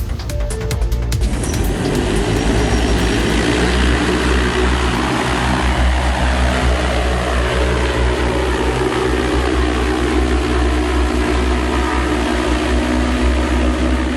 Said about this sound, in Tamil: நம் நாட்டு இளைஞர் ஒருவரால் உருவாக்கப்பட்டுள்ள பறக்கும் வாகனம்தான் இது.